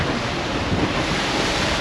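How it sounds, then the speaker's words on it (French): Sea waves slam against a sailing boat on the rough Mediterranean, a loud, continuous wash of surf mixed with heavy wind buffeting the microphone, with no voices. "ça fait depuis ce matin qu'on se prend des vagues dans la tronche depuis ce matin"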